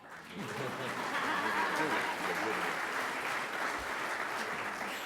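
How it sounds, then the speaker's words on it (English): Steady applause from a conference audience fills the room, dense and continuous throughout, with a faint voice underneath. "You can clap."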